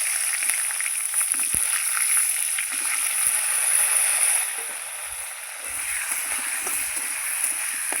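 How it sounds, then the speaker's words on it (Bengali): Potatoes fry in hot oil in a pan with a steady, bright sizzle that keeps going throughout, with a few faint clinks and stirs underneath. "আলুগুলো আমি খুব ভালো করে লাল লাল করে ভেজে নেব"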